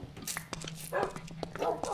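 Dogs bark and yip in short, moderately loud bursts. A person talks and there is other background noise.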